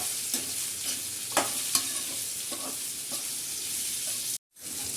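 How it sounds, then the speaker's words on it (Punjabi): Chopped raw mangoes are tempered in hot oil in a pan, sizzling and crackling up close while a utensil scrapes and stirs in repeated strokes, with a brief gap of silence near the end. "ਇਹਨੂੰ ਆਪਾਂ ਚੰਗੀ ਤਰ੍ਹਾਂ ਇੱਦਾਂ ਤੜਕਾ ਲਾ ਲੈਣੇ"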